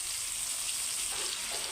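Chopped shrimp fry in a hot pan with a loud, steady hiss of sizzling oil and no voices.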